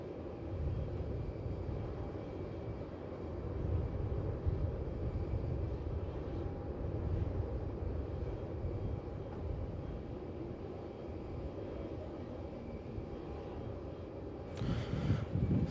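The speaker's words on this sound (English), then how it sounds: "So here we've got coming in on 16, China A350 Type A." A China Airlines Airbus A350 comes in to land on runway 16 at Melbourne Airport, its steady, loud engine roar holding throughout with a brief surge near the end and no talk over it.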